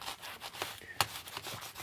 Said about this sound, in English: I'm just going to very carefully wipe this down with some alcohol and a microfiber cloth